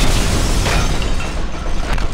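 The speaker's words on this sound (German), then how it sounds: "Und schießen da Raketen hin." Rockets from a rocket launcher exploding in the shooter game F.E.A.R. in slow motion, a loud continuous rumbling roar of blasts that fills the whole stretch without a break.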